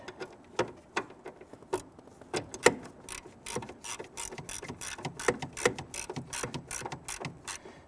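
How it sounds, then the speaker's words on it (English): A hand ratchet tightening a bolt on the hood release handle of a 1994-2004 Ford Mustang, rapid close clicking in uneven bursts as the handle swings back and forth, with no talking. "go ahead and tighten down the bolt on the front side"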